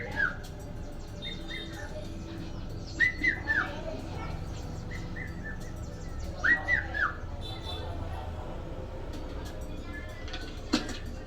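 A Hadza boy imitates a bird with a whistle, giving short rising and falling chirps in small bursts around the middle of the clip over an outdoor background.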